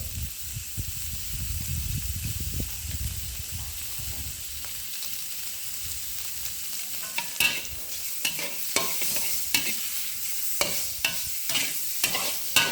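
Long beans and pork stir-fried in a pan give a steady hiss of frying oil under close, repeated scraping and stirring strokes that grow sharper toward the end, with no voices.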